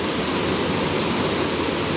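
Steady, dense roar of an Ozark National Forest waterfall in Arkansas, a fallen tree lying across one of its two falls, filling the whole clip with loud, continuous broadband rush and no voices.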